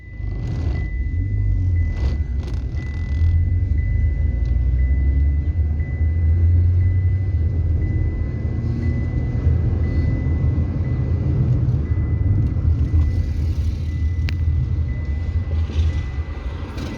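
Chevrolet Sonic Trax Cruze engine with a camshaft timing fault, running with a steady low rumble that swells as power is demanded, close and continuous with no talk.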